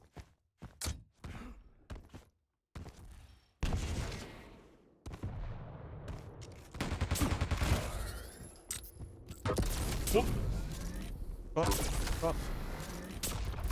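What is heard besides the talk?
railgun shots in Quake duel, from a video game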